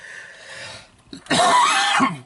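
A single harsh, close cough preceded by a short breathy throat sound, loud and abrupt.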